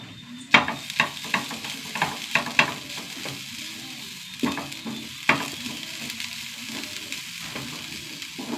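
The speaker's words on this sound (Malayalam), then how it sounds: "തേങ്ങ നന്നായി മൂത്ത് വരട്ടെ." Grated coconut roasting in a little oil with small shallots and curry leaves, stirred in a pan: a soft steady sizzle broken by repeated sharp scrapes and taps of the spoon, close and alone.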